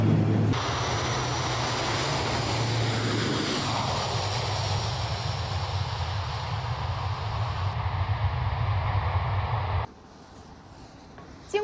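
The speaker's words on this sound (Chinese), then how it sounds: "经过几个小时的飞行，现在飞机已经安全落地" Steady, loud engine drone heard inside a Y-8 anti-submarine patrol aircraft in flight, continuous for about ten seconds before cutting off abruptly into near quiet.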